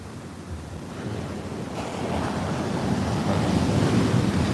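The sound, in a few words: large ocean waves at Muaro Bayang beach in bad weather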